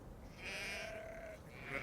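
A cartoon sheep lets out a single drawn-out, wavering bleat, quiet and alone with no talking over it.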